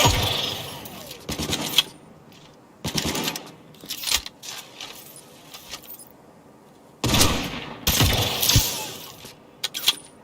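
Gunfire in the Cyberpunk 2077 video game: sharp bursts of shots in separate clusters with quiet gaps between them, close and loud.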